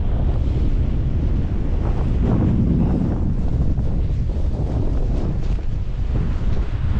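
Strong, freezing wind buffets the microphone at a winter wild camp, a loud continuous roar and rumble that swells and churns without letting up, with no voices.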